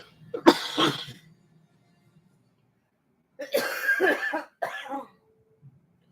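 Two bouts of harsh smoker's coughing, a burst near the start and a longer fit a few seconds later, close and loud with quiet between.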